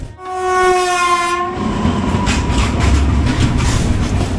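A loud double-decker passenger train horn blasts steadily for over a second, then the train rumbles on with a continuous roar and rhythmic rattle, heard close up with no talking.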